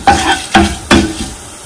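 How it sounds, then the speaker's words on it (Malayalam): Coriander seeds and fenugreek are dry-roasted in a pan for Kerala sambar, heard as three quick, loud scraping stirs with a light rattle of seeds between strokes. "ഇതിപ്പോൾ നമ്മുടെ മല്ലിയും ഉലുവയും നന്നായിട്ട് മൂത്ത് വന്നിട്ടുണ്ട്"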